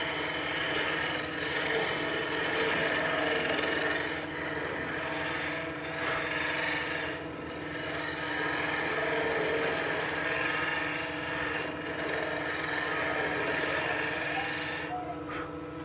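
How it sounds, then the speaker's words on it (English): A small round-nosed Boxmaster scraper shapes the stem of a wooden spinning top on a lathe, giving a steady, fairly quiet scraping rasp over the motor's constant hum, with slight swells and dips. "I like to cheat and use my little scraper. It's a Boxmaster tool."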